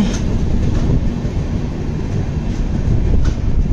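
The Vizag to Araku train runs steadily, heard from inside a Vistadome coach as a loud, continuous low rumble of wheels and carriage noise, with faint periodic rail clicks.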